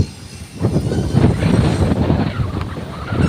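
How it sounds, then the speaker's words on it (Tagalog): Strong wind gusting across an outdoor playground beside a condominium, a loud continuous roaring rumble of buffeting air against the microphone, with no talk. "Wow, lakas ng hangin."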